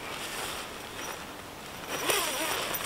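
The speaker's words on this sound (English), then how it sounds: "So it zips up around there so that you've got a fully enclosed bug-proof sleeping area." The bug netting of a SkyNest hammock tent is zipped closed, giving a continuous rasping zipper sound nearby that grows louder and brighter toward the end, heard alone with no talk.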